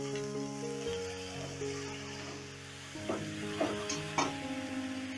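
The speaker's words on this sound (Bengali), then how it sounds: "এবারে দিয়ে দিচ্ছি কেটে রাখা বাঁধাকপি।" Chopped cabbage tossed into a pan of gently fried onion and garlic for bhujia, a quiet sizzle with a few soft scraping stirs, heard beneath a steady background hum.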